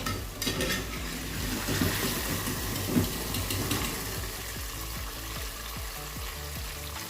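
Onion and tomato frying lightly in oil in a karahi for Afghani chicken karahi, a steady broadband sizzle close by with scraping and stirring clatters of a utensil against the pan, no talk.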